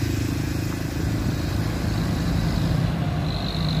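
Busy highway traffic near a toll gate, a continuous low rumble of passing cars and trucks with engine drone building and fading, steady and fairly loud throughout.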